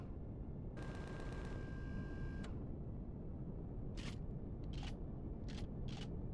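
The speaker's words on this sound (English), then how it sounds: "technically you can fire at them" Weapons fire in the space survival game Empyrion Reforged Eden 2 against crashed titans on a moon: a rapid string of sharp mechanical shots, then several separate short bursts further on, over a constant low noise bed.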